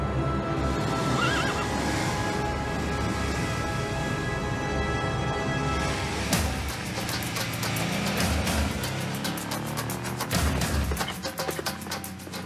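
A horse whinnies loudly, then hooves clatter in a fast run of sharp clip-clops with thuds and a knock near the end.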